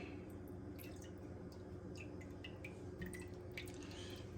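Melted coconut oil, warmed in a microwave, pours into other room-temperature oils in a kitchen, a faint, soft liquid trickle with small scattered drips and splashes, close by and quiet.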